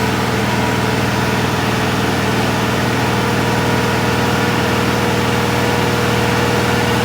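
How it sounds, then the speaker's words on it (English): AERO JetGo 900 ground power unit engine running steadily at 2400 RPM with its generator active, a loud, continuous mechanical drone and hum with no talk over it. "The unit is now running up to its 2400 RPM. Generator is now active."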